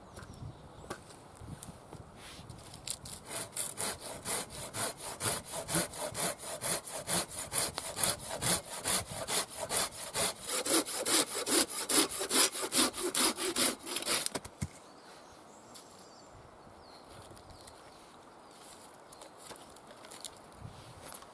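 Blunt Silky hand saw cutting wood outdoors, a rhythmic series of close, rasping back-and-forth strokes growing louder, then stopping abruptly, leaving quiet ambience.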